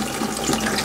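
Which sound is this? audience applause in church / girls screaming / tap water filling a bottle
tap water filling a bottle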